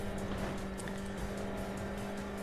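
Nissan Skyline race cars in the game Import Tuner Challenge make a steady engine hum with a faint high tyre squeal over it, continuous and moderately loud, with no voices.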